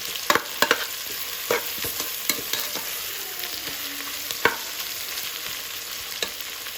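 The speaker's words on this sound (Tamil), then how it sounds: "நான் எல்லா வெங்காயம் நல்லா ப்ரௌனிஷாக வர வரைக்கும் நல்லா வதக்கணும்." Onions sauté in a pan until browning for mutton biryani: a continuous soft sizzle with repeated sharp scraping clicks of stirring at an irregular rhythm, close and fairly quiet, with no talking.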